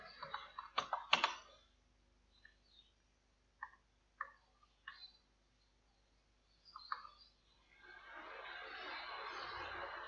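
Commands typed on a computer keyboard in a quiet room, with a quick burst of clicks at the start, a few scattered single keystrokes, then a soft hiss of background noise toward the end.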